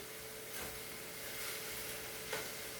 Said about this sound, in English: I'm trying to saute the cabbage